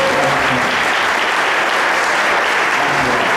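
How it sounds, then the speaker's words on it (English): Dense, continuous audience applause at a district court race forum, loud and even throughout, with a faint voice underneath. "Ladies and gentlemen, applause, please."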